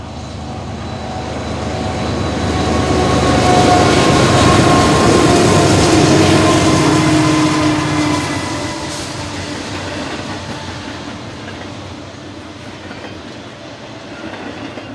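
Eastbound train rolling past on the Alhambra Subdivision near Spadra in Pomona, a steady, loud rumble with rail clatter that swells to a peak mid-pass and then slowly eases off, no voices.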